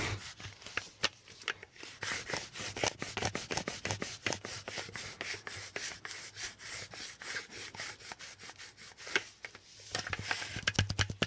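Close, quiet sticky taps and rubbing from a lint roller, a dense run of small crackling contacts at an uneven pace that grows busier toward the end, with no talk.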